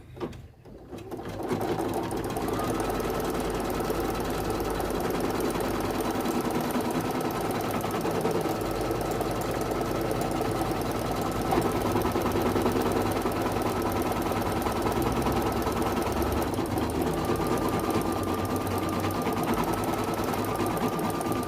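Embroidery machine sewing a dense satin stitch on a quilted vaccine card cover, a loud, steady, rapid mechanical clatter running continuously after a brief start, with no talking.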